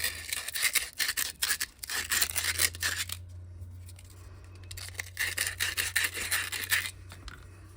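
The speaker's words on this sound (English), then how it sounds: "First thing I need to do is scuff up the tubes." Shiny metal pen tubes being scuffed by hand for woodturning, a faint close scratching rub in short bursts with a quiet pause midway and a steady low hum underneath.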